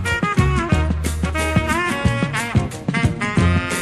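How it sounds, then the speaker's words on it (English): A dense Afrobeat groove plays loudly throughout, with a busy mix of bass, drums and melodic instrument lines weaving in constant rhythmic patterns, no talking over it. "And Afrobeat sounds like this."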